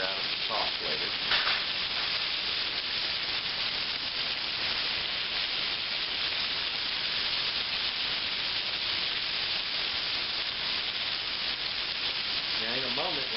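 Loud, continuous sizzling of veal frying in hot oil, a dense crackling hiss that stays steady throughout with no talking.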